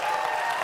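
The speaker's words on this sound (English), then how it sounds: "Give a round of applause to Gautam." A brief burst of crowd applause at a university closing ceremony, dense even clapping from a large audience with no voices on top.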